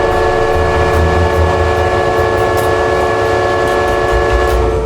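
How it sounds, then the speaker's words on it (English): Coal train in Australia working up a rise, a loud, steady rumble of rail wagons and engine with sustained horn-like tonal drones running throughout, close and continuous. "Finally, the coal train makes the rise."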